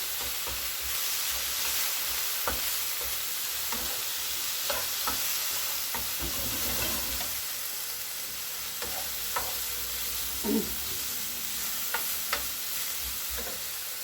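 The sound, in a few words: stirring a homemade cheesy bread mixture with cumin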